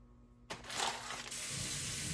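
Running water switches on with a hiss and splash, then settles into a steady, faint stream while dried beans are rinsed, with no one talking.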